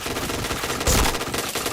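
Rapid automatic gunfire in a first-person shooter video game, a loud dense burst with a sharper crack near the middle, with no talk over it.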